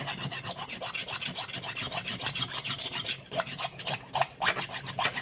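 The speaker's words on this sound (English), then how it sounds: "I'm just sanding my tone board with a file to make sure it's flat" Rhythmic rasping of a file drawn back and forth across a wooden duck call tone board to flatten it, quick regular strokes close by, each with a gritty scraping texture.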